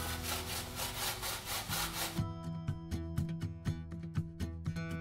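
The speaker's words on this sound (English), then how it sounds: "These potatoes are now gonna be grated down into the batter that we did before." Potatoes are grated by hand in quick, rhythmic rasping strokes, close and steady, for Swedish raggmunk batter.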